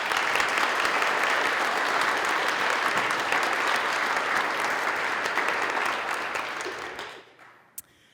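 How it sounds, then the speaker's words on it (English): A commencement ceremony audience for career and technical graduates gives a loud, dense round of applause honoring military service members. It holds steady for about seven seconds, then fades out, ending with a single late clap. "Please join me in a round of applause to thank all of the men and women who have served our country."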